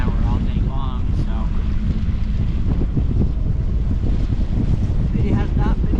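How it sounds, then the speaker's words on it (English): Strong wind of around 30 mph blasts the microphone on Lake Okeechobee during a bass fishing trip, a loud continuous roar with a voice faintly audible beneath it. "It's been very windy."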